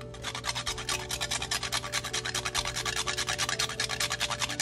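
Whole nutmeg is grated by hand, producing a fast, even series of short rasping strokes, close and fairly quiet, with no other sound.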